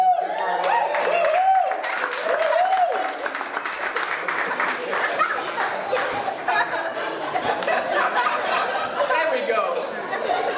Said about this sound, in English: please stand up and give her a round of applause